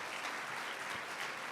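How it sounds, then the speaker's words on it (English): Applause from an audience at an innovation awards event, a dense, even patter of many hands clapping, fairly soft and distant, with no talk over it. "Round of applause for our innovation champions."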